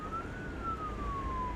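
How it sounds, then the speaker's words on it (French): An ambulance siren wails in a single steady, slowly gliding tone, moderately close and loud over a rumbling bed of road traffic noise. "En quelques minutes, l'ambulance fond la circulation et arrive sur les lieux de l'accident."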